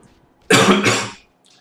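A single harsh cough from a man with a lingering cold, one loud burst about half a second long, close to the microphone, followed by quiet.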